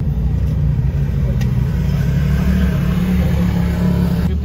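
An ATV engine runs loud and close with a steady, low rumbling drone that holds level for several seconds without clear pauses.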